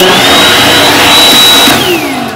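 Built-in hair dryer in a Cebu hotel deluxe corner room bathroom blowing loudly and steadily up close, a broad whooshing roar with a high whine that drops in pitch near the end as it slows.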